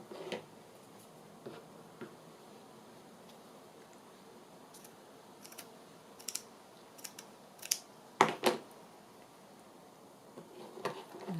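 Scissors snipping pieces of paper for journal decorating, with scattered crisp clicks and short cuts in small clusters, some in quick pairs, between quiet pauses, close and soft, with no talking.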